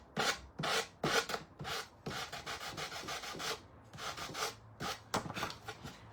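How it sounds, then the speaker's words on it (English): Small sanding block rubbed by hand over a wooden DIY Santa craft, giving repeated close scratchy strokes in short bursts with brief pauses between them. "I'm going to get my little sanding block and I'm going to sand it to where it's all"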